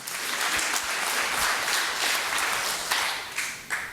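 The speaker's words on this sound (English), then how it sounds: "You can applaud for that." Audience applause fills a large lecture hall during a 2015 Gateway to Reason talk, a dense, steady wash of many hands clapping at close range, fading slightly near the end.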